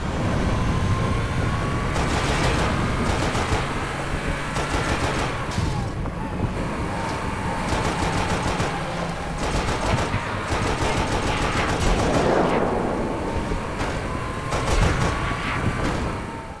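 In Halo: Spartan Strike, the Warthog's mounted gun fires in rapid bursts of chattering shots over a steady din of engine and combat noise, while a voice speaks at times.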